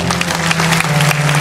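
Church congregation breaks into loud applause during a sermon, a thick, continuous wash of many hands clapping close by, with a sustained tone underneath and no speech over it.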